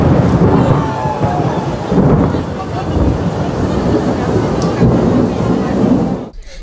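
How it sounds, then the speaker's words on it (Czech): A thunderstorm with very strong wind and heavy rain sweeps over an outdoor folk performance, with loud, continuous roaring gusts and rumbling thunder buffeting the microphone throughout. "zasáhl další režisér, scénarista a dramaturg v podobě velmi silného větru, deště a bouřky"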